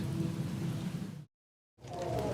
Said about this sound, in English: It was raining much harder now, and the wind had picked up incredible speed.